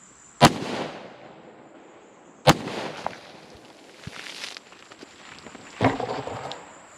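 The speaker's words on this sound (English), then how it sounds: "First shot, I'm not entirely sure what happened, so I just shot again." Three sharp, loud gunshots, the first two close together and the third after a pause, fired at cheap Dollar Tree body armor during an outdoor test, each followed by a short ringing decay and faint shuffling.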